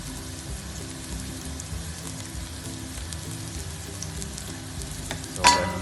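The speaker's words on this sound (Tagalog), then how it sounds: "Lalagay na natin ang ating bawang." Garlic sautés in hot oil for chicken arroz caldo, a soft continuous sizzle with a low rumbling undertone and a brief louder crackle near the end.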